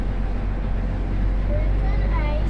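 A PDO unit runs smoothly as a steady, loud low mechanical drone with constant rumble and no change in pace.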